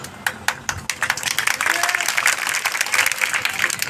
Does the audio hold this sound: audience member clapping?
yes